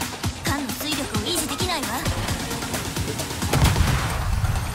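Warship guns fire in World of Warships amid a rapid cluster of booming shots and blasts, with someone talking over the barrage.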